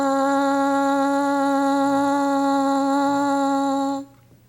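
Buzzing lips on a French horn mouthpiece produce a single sustained, harmonic-rich tone held steadily for about four seconds, then ending sharply into near silence.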